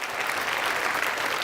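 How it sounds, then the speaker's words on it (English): An audience applauds a speaker's achievement at a talk, a steady, even wash of many hands clapping at once, fairly close and without pause through the whole short stretch. "Y'all can clap for that,"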